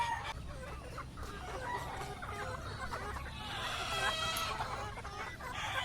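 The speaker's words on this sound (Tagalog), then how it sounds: "Ikutin natin yung mga sisiw natin." Chickens on a poultry breeding farm cluck steadily, with a rooster crowing among them. The birds are fairly close and stay busy for the whole stretch, getting slightly louder toward the end, with no talk over them.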